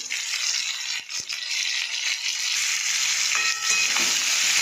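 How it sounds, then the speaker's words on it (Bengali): Jackfruit and potato frying in oil with salt and turmeric, a steady loud hiss and sizzle with a few faint stirring clicks, no voices. "এটা একটু নেড়ে চেড়ে তেলের মধ্যে ভেজে নেবো, একটু লাল লাল করে।"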